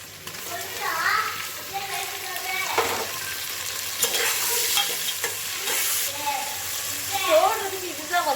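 Tomatoes added to softened onions sizzle and fry in a pressure cooker pot while being stirred, steady frying hiss with scraping stir strokes throughout.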